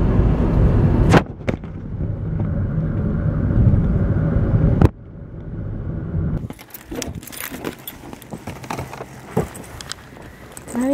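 A car driving home from a store run, a steady low road and engine rumble in the cabin, broken by a couple of sharp clicks, then quieter with scattered rattles and small handling noises.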